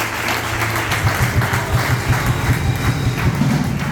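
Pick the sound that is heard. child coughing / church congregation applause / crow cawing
church congregation applause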